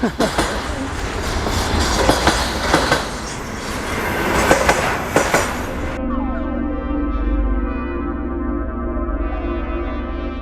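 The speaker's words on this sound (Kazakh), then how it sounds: "түбі көрінбейтін пойыз ғой" A long train rolls past with rhythmic clickety-clack and rumbling, then the wheels give way to a sustained tonal squeal and drone.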